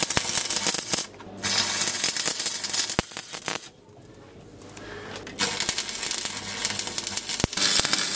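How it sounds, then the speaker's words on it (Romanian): Welding a coupling on a Ruris 731k motor hoe, loud crackling, sizzling arc bursts in several long runs separated by short pauses. "Să-i dăm un pic două puncte, știi? De sudură."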